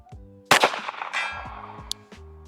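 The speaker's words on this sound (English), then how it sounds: "I just enjoy shooting pistols, especially a 3-inch ported gun at distance" A 3-inch ported pistol fires one sharp, loud shot followed by a reverberant tail and a distant metallic ring, with someone talking before and after the shot.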